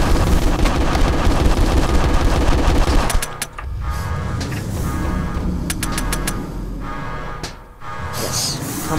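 Rapid bursts of gunfire from a video game, shooting at a hard-to-destroy reptile boss in Six Eight Two, loud and dense at first, then sparser shots over rumbling effects.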